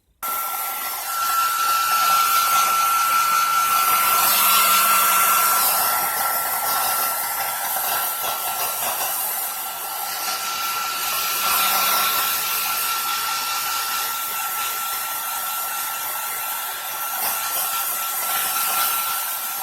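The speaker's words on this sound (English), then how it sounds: "I'm going to get my dryer. So if you'll just excuse me for just a minute, I'm going to actually dry this for a few seconds." Hair dryer blowing on paint for mixed media art: a loud, steady whir with a high whine running nearly twenty seconds, dipping and swelling slightly as it moves, with no talking.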